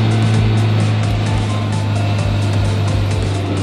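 A Toyota 20V 4AGE engine with an ECU fault, stuck in limp mode and capped at 4000 rpm, drones loudly and steadily in third gear, with a faint rhythmic pulsing underneath.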